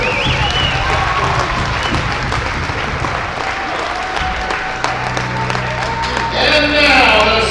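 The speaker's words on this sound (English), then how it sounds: "Let's give Cody Hampton a round of applause for his efforts." A crowd in a school gym at a boys' basketball game applauds loudly and steadily, with crowd noise and an announcer-like voice rising near the end.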